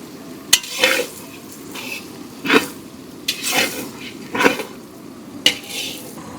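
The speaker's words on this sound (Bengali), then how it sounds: "নাড়া দাও সঞ্জয় ভালো করে।" Onion and tomato fry in a pan as a spatula stirs them. Rhythmic scraping strokes land about once a second over a steady low sizzle, up close.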